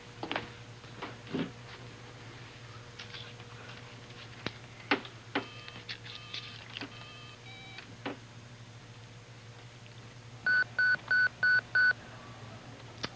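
A telephone number is dialed on a handset: scattered soft button clicks and beeps, then a quick run of five evenly spaced DTMF tones close to the listener.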